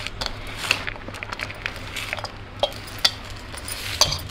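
Rice flour batter stirred for pumpkin vadiyalu: a steady scrape and slosh of a spoon in a pot, punctuated by faint metallic clinks, close and alone.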